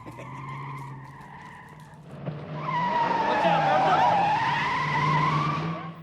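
A car skids on a film stunt, the tire squeal rising loud after a quieter stretch of low engine and background voices, then holding for several seconds.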